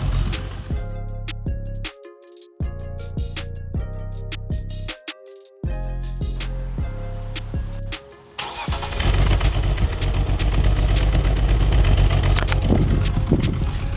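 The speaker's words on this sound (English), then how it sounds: "It seems like the misfire is still happening" A BMW E46 engine with a misfire cranks in several rhythmic bursts with brief pauses, then catches and runs loud and rough, its uneven idle filling the rest of the clip.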